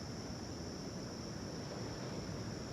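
Long-period offshore swell from Hurricane Idalia breaking as ocean surf, a steady, dense wash of rumbling water with wind noise across the microphone, continuous and unbroken with no voices.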